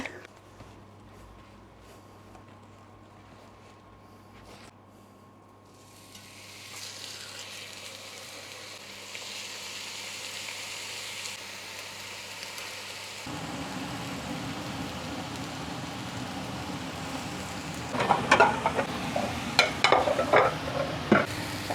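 Steak sears in a hot pan with butter, a quiet start giving way to a steady broad sizzle that swells louder near the end with sharp crackles and spatters.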